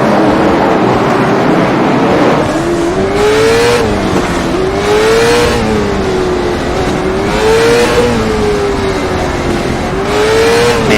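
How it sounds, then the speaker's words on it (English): Race cars in the iRacing sim game, led by a Toyota, rev and drone loudly behind the pace car before the green flag, engine pitch rising and falling in repeated swells with no voices over it. "Just listen to the sound of the car as they're just ready to roll"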